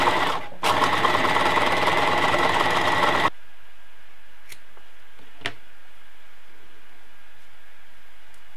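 A sewing machine runs steadily for about three seconds while stitching a bralette elastic tail, then stops, leaving faint ticks and a quiet room.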